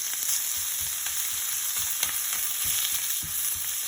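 Loose chorizo, already out of its casings, fries in a pan as it gets broken up, giving a steady dense sizzle with scraping stir strokes spaced through it.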